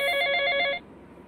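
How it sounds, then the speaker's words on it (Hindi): A household phone rings with a bright, steady electronic trill that stops abruptly partway through, leaving a quiet room with faint background hiss and no voices. "मेरी मम्मी का फोन आ गया था।"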